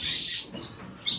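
Yakuzo canaries give short, high chirps in two quick bursts, one at the start and one at the end, close by with a brief lull between.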